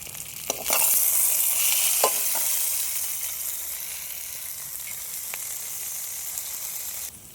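Ginger garlic paste sizzling and frying in a pan over a wood-fired stove, a steady loud hiss lasting throughout with a few faint stirring scrapes.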